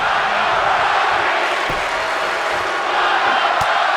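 A large wrestling crowd cheers in a loud, steady roar at a live show, with scattered shouts and whoops rising through the dense wash of voices.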